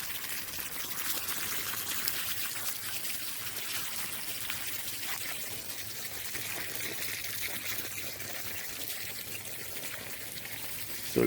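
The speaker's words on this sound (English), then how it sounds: "So it creates a nice little river that flows all the way down." A small stream of water runs through a community garden, producing a faint, steady trickling wash that continues without a break.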